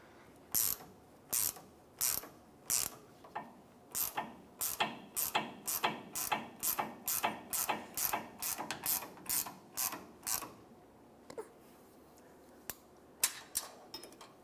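A ratchet snugging a tie rod nut on a Jeep Wrangler while a wrench holds the stud, giving a long run of steady, evenly spaced sharp clicks up close, then a few scattered final clicks.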